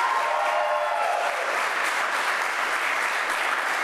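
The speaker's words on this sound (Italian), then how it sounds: "fate un applauso ragazzi." A studio audience at an Italian television show claps steadily, a dense even wash of applause that stays loud and unbroken throughout.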